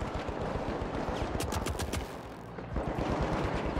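A ceiling-mounted turret in The Finals fires a steady rapid stream of shots, loud and continuous throughout, with a brief cluster of sharper cracks near the middle.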